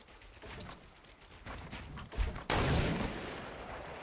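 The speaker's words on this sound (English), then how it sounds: "they're still launching rockets" In a Fortnite match, rockets launch and explode, with rumbling blasts and crackling bursts that build to a loud impact followed by a sustained roar that slowly fades.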